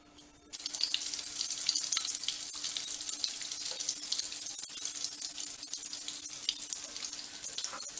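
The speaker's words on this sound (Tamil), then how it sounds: "இதை நம்ம எண்ணெயில் எடுத்து போட போகிறோம்." Sweet milk buns drop into hot oil on a low flame and deep-fry with a sudden, steady crackling sizzle that starts abruptly and stays loud and even to the end, with no voices.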